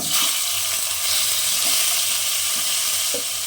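Raw banana pieces go into hot mustard oil already crackling with cumin seeds, giving a loud, steady sizzle with a few soft knocks of stirring, close by and with no talking.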